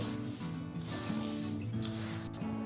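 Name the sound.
mixing grated coconut with ladoo ingredients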